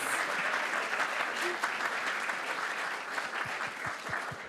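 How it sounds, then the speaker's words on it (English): Conference audience applauding the state peak body representatives, a full, even round of clapping that carries on throughout, with a few louder individual claps standing out near the end. "Please give Victoria, New South Wales, South Australia and WA a round of applause."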